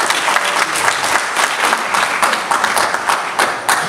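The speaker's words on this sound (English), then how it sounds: "A big cheer." A church congregation cheers and applauds, producing loud, dense clapping with scattered whoops and crowd noise that stays steady throughout.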